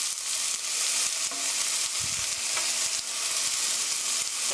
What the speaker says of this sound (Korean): 양파, 갈릭, 마늘 넣어주세요. 이렇게 해서 스터프라이 3미닛 3분 정도 볶아주세요.